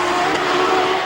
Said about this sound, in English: Audi Quattro Group B